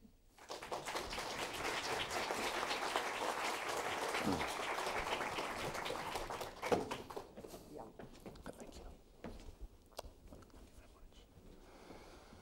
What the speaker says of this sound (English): Ladies and gentlemen, will you please welcome Professor Blommaert with a round of applause.